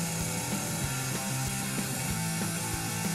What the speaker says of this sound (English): This was a fresh new buffing wheel, so I chose this one for the majority of the work on this one.